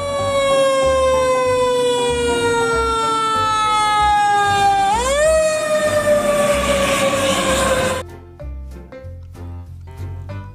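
A toy fire truck's loud wailing siren, tone sliding downward then abruptly swooping up, cutting off to a thinner electronic jingle near the end.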